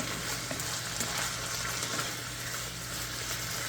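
Onion frying in a pan for an Asian beef rice bowl, a steady, soft hiss and crackle of sizzling with faint stirring, heard close and alone.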